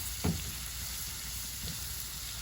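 Flour gravy is stirred in a sizzling pan, giving a steady, faint frying hiss with one brief scrape of the spoon near the start.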